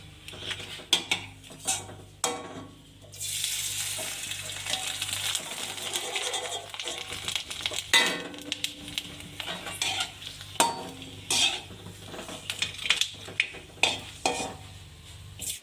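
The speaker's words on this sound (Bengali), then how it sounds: "তেল গরম হয়ে গেছে, পাঁপড়গুলো ভেজে নিচ্ছি।" Sago papads frying in hot oil in a wok, with a bubbling sizzle that rises and falls alongside frequent metallic scrapes and clinks of a utensil against the pan, close and with no talking.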